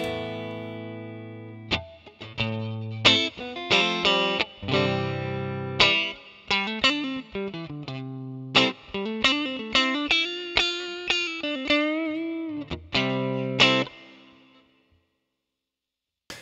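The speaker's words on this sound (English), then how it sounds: "it is a medium hall, probably too big of a reverb" An electric guitar played through a Fractal FM3 with a medium hall reverb rings out in picked notes and strummed chords, each decaying into a long, washy tail that fades to silence at the end.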